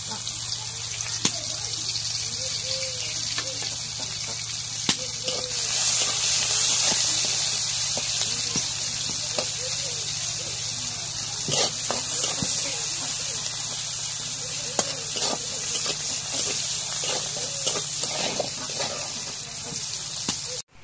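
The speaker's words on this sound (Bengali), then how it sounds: "এখন তেলে দিই করে এখন পেঁয়াজ রসুন দিয়ে দিই" Onion and garlic frying in oil, a steady broadband hiss and crackle that rises and holds for about twenty seconds, with scattered clicks of a utensil against the pan and a faint voice in the background.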